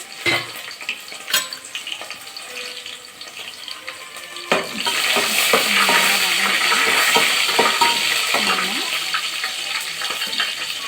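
Garlic and shallots drop into hot oil in a pan for fish curry, setting off a loud, sustained close-up sizzle after a quieter start with a few knocks and stirring scrapes.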